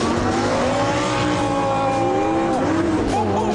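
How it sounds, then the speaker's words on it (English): A Lamborghini launches hard from a standstill in sport mode, its engine a loud, continuous close roar with rising whining tones layered through it from start to finish. "Sport, ESP, gear, foot off brake, wait for the flag to drop, and launch."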